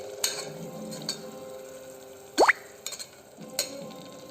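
Masala paste fries in oil in a pan for a menthya sweet corn bath, a low steady sizzle broken by a few spoon scrapes and knocks against the pan, with one sharp rising squeak midway.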